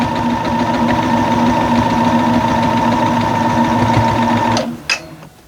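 A sewing machine stitches a quilt block, running a loud, steady, rapid mechanical whir for several seconds before stopping abruptly with a couple of clicks.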